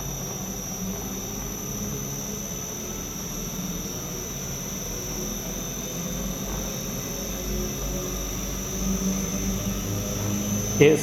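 A Lyson 56-frame honey extractor spins at full speed in manual mode, giving a steady, loud, roaring whine like a jet engine that holds constant throughout, with no talking.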